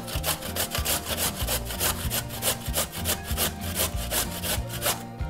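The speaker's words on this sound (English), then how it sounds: "here's a grater, and I'm going to grate it there" A carrot is grated by hand on a grater, the scraping strokes coming in a quick regular rhythm, close and fairly loud, with no voices.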